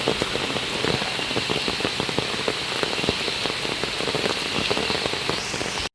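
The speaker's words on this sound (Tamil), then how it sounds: "எனக்கு தெரிஞ்சு மழையோட சவுண்ட் மட்டும் தான் உங்களுக்கு கேட்கும்னு நினைக்கிறேன்." Heavy rain falls at a hilltop train route viewpoint in Karnataka, a dense, steady hiss with constant pattering drops. It stays loud and even before cutting off abruptly at the end.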